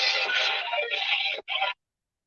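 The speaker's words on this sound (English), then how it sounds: "My phone is ring." A mobile phone rings with a bright electronic melody in a steady, busy burst, then briefly cuts out, sounds once more and stops dead.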